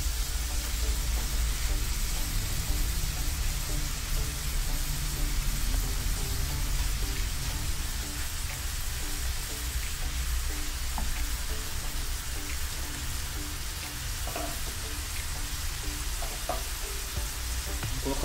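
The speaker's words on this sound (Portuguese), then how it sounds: "E agora vamos colocar a carne. Vou acrescentar a carne." Ground meat frying in a hot pan, with a loud, steady sizzle and crackle that carries on without a break, broken now and then by faint stirring scrapes.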